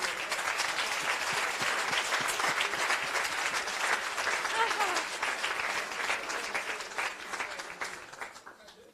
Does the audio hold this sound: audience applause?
yes